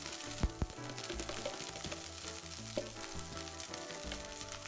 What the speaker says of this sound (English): And we're going to fry the rice.